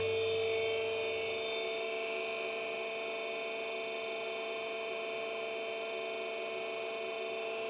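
Hydraulic motor of an Arburg 221 injection moulding machine running: a steady, loud mechanical hum with strong tonal whine that holds evenly throughout, with a brief low rumble at the start.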